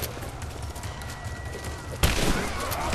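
Shotgun fire in the Rise of the Tomb Raider video game, a sudden loud blast two seconds in that gives way to dense, sustained crackling gunfire and game noise, with a voice talking over the mix.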